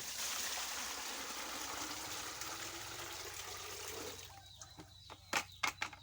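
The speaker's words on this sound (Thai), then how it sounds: "เสร็จแล้วก็จะเทน้ำปุ๋ย" Liquid urea fertilizer pours steadily onto rice husks in a continuous rushing splash that stops abruptly, followed by a few scattered drips and soft knocks.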